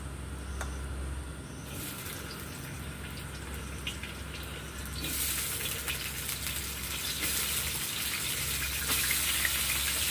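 Sliced bitter gourd hits hot white oil in a wok, setting off a hissing sizzle that grows louder and brighter midway and keeps crackling steadily.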